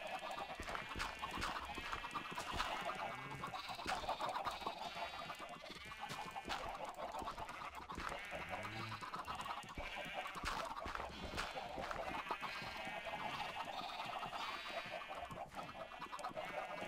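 Minecraft chickens cluck in the game, repeated short quiet calls scattered across the stretch, mixed with bleating-like animal cries in a soft, busy background.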